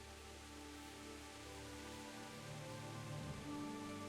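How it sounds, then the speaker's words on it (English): Steady rain in the video game Kingdom Come: Deliverance, a continuous soft hiss of drops pattering on surfaces, even and unbroken throughout with a low game ambience beneath. "Rainy, rainy, rain, rain, rain, rain, rains."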